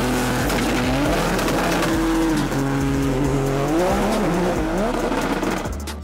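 A Nissan GT-R race car launches hard at full throttle, its engine roaring loud and steady with rising and shifting tones and tire squeal throughout, close and continuous until a brief drop near the end; the launch broke a drive shaft.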